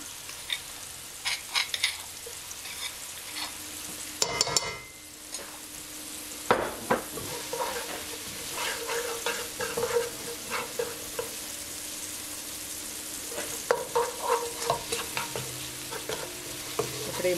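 Red onion and garlic sauté in a pan for mondongo stew under a constant sizzle, with a spoon stirring and knocking against the pan in irregular clusters of close, sharp clicks.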